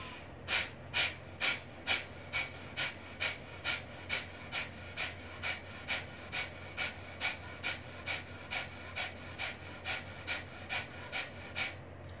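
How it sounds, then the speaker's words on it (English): Forceful nasal exhalations of Kapalbhati breathing, a round of about twenty sharp, evenly spaced puffs in a brisk steady rhythm, close and moderately loud with no talk over them. "Now take a deep breath and start exhaling. We will continue a round of 20 counts."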